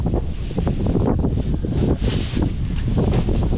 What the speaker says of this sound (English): And the wind just switched directions.